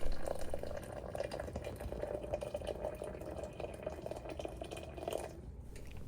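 Hot water is poured from a kettle into a tea press to steep loose leaf tea, giving a steady, close liquid pour that runs for about five seconds and then stops.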